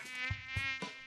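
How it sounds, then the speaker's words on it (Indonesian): A housefly buzzes close by in an animated cartoon, a steady whining drone that swells and dips, with three soft low thuds spaced through it. "Pergilah, lalat. Kacau betul."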